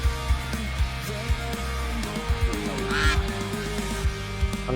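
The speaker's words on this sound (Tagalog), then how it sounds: "Ang daming pato, di ko makita kung nasan yung pato." Several honking, quacking duck calls in a video game repeat in quick bursts over a muffled background with thumps, sounding like a chaotic flock of ducks.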